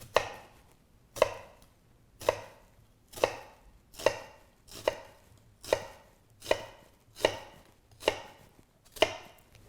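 A knife dices sweet onion on a cutting board, ten crisp evenly spaced chops about one per second, close and clear with nothing else heard.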